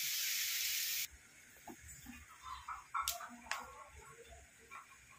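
Boondi drops fry in hot oil with a sharp, bright sizzle for about a second, then quiet scattered ticks and pops continue faintly.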